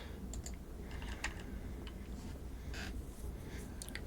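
Quiet typing on a computer keyboard: soft, irregular clusters of key clicks, close by and alone.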